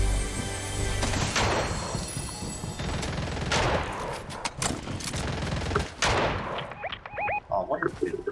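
Small gun firing in a Fortnite match, with repeated sharp shots and bursts crackling through busy game noise, with a voice talking over parts of it.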